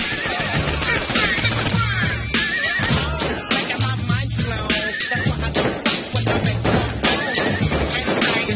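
Rapid, continuous bursts of video game gunfire from a new gun in Saints Row IV, loud and dense, mixed with game effects and an underlying music track.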